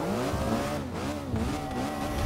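Porsche 919 Hybrid prototype engine in the Forza Motorsport 6 racing game at Brands Hatch, a steady loud drone with rising and falling revs as it pulls hard, alone without talk.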